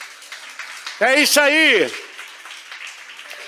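A church congregation claps in a soft, continuous patter of applause, and a voice briefly speaks loudly over it.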